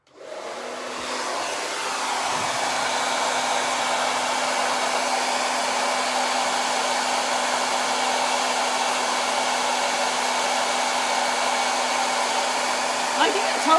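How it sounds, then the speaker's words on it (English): Steady, fairly loud whirring blow of a hair dryer used to dry paint, starting abruptly and holding a constant hum with a faint tonal whine throughout, with no talking. "Let me just dry that real quick."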